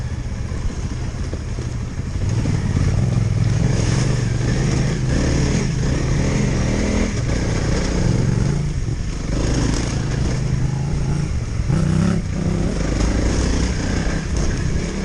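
Honda CRF 300 L and Yamaha T7 motorcycles riding off road on a trail, their engines droning steadily and loudly throughout, with slight rises and falls in revs and wind noise.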